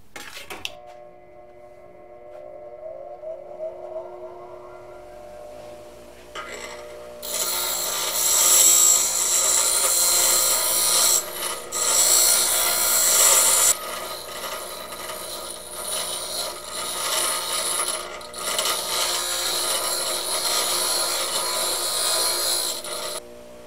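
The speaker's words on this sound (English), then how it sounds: "we're going to take this to the bench grinder and kind of refine the shape a little bit" A bench grinder spins up and then bites into a welded metal spoon, giving a loud, sustained abrasive hiss and grind that varies as the shape is refined.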